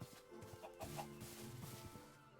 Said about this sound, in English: well, hello, chicken